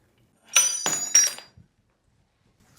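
A brake caliper being removed from a Surron LBX electric motorbike, heard as a few sharp metallic clinks and taps in quick succession, close by and followed by a brief faint knock.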